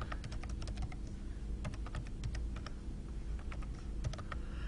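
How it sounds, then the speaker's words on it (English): A passphrase being typed on a computer keyboard: quick clusters of key clicks with short pauses between bursts, close and clear over a low steady hum. "You're going to need to type in a passphrase."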